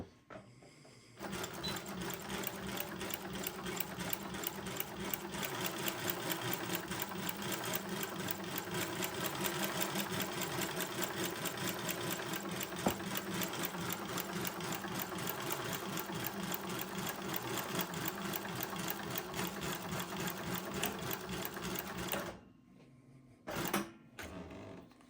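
A Global WF 1575 walking-foot, needle-feed cylinder-arm sewing machine stitching with a drop-down guide runs in a fast, steady clatter for about twenty seconds, then stops, followed by a couple of brief mechanical clunks.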